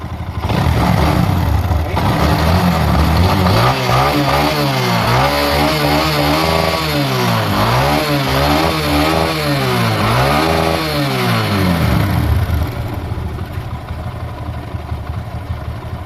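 A motorcycle engine with a freshly tuned carburetor runs loud and close, blipped through repeated revs rising and falling before settling back to a steady idle.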